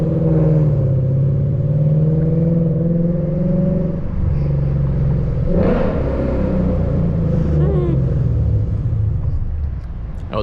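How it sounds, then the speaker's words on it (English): A Lexus RC F engine downshifts and revs, giving a loud, steady close-up rumble with a sharp rev burst partway through and fuller engine noise toward the end. "Something about doing a downshift near a RAV4 and an RCF, it just doesn't feel right."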